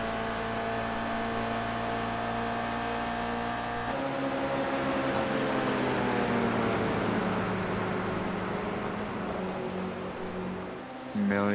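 Toyota GR86 race cars in a sim racing game drone and whine at high revs, with engine tones shifting in pitch as cars pass and change gear.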